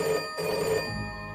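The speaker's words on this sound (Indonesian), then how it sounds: "telepon berdering." A telephone rings in two short bursts of bell tone with a brief gap between them, then fades, alone and fairly close, at half past midnight in a family house at Christmas.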